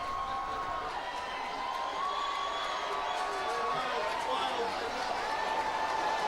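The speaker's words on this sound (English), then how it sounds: "the crowd is going wild" Distant, steady crowd cheering and whooping at a Tennessee baseball championship celebration downtown, a continuous roar under a nearby talking voice.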